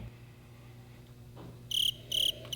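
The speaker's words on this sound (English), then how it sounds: "Crickets." Crickets chirp in three loud, pulsing bursts that begin partway through, standing out clearly above a low, quiet room hum.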